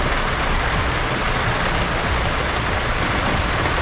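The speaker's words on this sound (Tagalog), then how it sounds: "Lakas ng ulan dyan." Heavy rain pours steadily onto a partly roofed area beside a car being repaired, making a dense, even hiss with no pauses. It is loud and close, and no one speaks.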